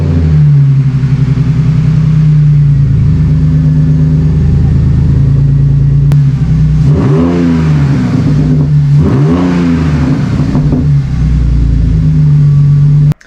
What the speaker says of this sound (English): I'm gonna do a quick startup video with the car.